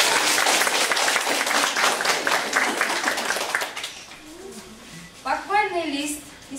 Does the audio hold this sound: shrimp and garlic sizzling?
no